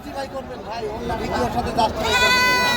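A young goat kid bleats at a busy village goat market in Bangladesh, a few wavering cries near the end rising over constant crowd chatter and nearby talking.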